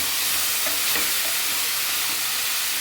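Chopped tomato tipped into a hot frying pan and stirred, a steady close sizzle with soft scraping of the spoon running throughout.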